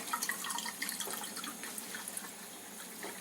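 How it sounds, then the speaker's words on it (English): Ionized Kangen water runs from a K8 machine into a glass, a light trickling pour with small drips and splashes, quiet and close. "And we'll have our first glass of Kangen water."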